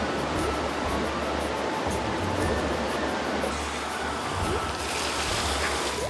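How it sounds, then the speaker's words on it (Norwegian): Water rushes loudly into a channel from a newly started pump at a water attraction, a dense, continuous roaring wash that holds steady and close throughout. "Så nå skal jeg gi beskjed til Victor fra ABC, som har levert en attraksjon, om å sette i gang pumpen"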